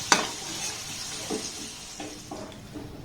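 Bangladeshi winter pitha cakes frying in a pan, a steady hiss of sizzling oil with a sharp clatter at the start and a few soft stirring scrapes, close and clear.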